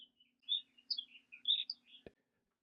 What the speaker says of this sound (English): You can hear the birds outside chirping